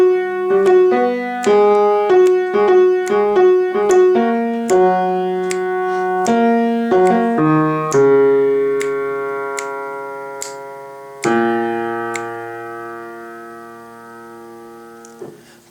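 A synth solo from a song is played on a keyboard as a melodic line of plucky notes that ends in long sustained chords. It is clear and close, with no talking.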